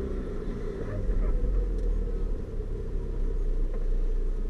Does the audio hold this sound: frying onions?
no